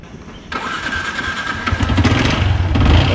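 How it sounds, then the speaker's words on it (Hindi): A motorcycle engine cranks and catches at about half a second, then settles into a steady, loud idle with a slight rise in revs toward the end. "बाइक स्टार्ट भी मस्त हो गई है"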